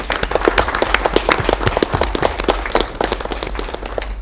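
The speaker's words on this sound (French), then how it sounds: "je vais demander des applaudissements pour lui" Audience applause at a launch event for a community association: a run of sharp, close hand claps forms a lively, fairly loud patter that thins slightly toward the end.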